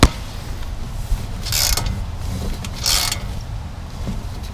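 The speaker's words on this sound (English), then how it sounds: "You hold this nut and then you tighten that down" Nut spun down a long bolt with washers during a brake job on a 2017 Ram 1500, close metallic ratcheting and grinding with two brighter scraping bursts, fairly quiet with no talking.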